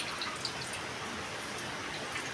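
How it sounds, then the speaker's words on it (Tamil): Water dripping and trickling as a watermelon rind is squeezed by hand in a kitchen, a soft, steady wet patter close by with no talking. "இப்போ இதையும் நல்லா புழிஞ்சு எடுத்துட்டா அதில் இருக்க தண்ணி ஃபுல்லாக வந்துடும்."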